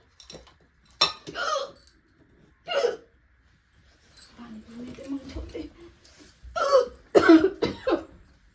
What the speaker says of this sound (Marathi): त्याला उचकी पण लई टायमावर लागली